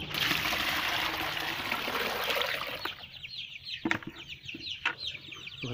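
Chicks and young chickens cluck and peep in a cluttered chorus, dense at first and then thinning into separate chirps, with a trickle of water alongside.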